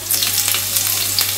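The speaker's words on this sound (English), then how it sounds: "Now dropping the beef inside the hot oil." Beef sizzles and crackles in hot oil, a loud, continuous frying hiss with scattered sharp pops and spatters close by.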